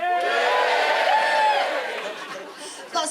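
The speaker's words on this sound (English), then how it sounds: "Give me a cheer if you just wandered in off the street." Crowd noise from a comedy club audience at a stand-up final, a steady wash of cheering, chatter and light laughter that swells and then fades, ending in a brief rise of voices.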